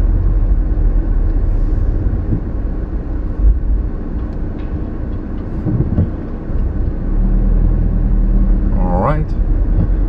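A car drives slowly into a building, its engine rumbling low and steady up close, with people talking over it and a brief squeal near the end.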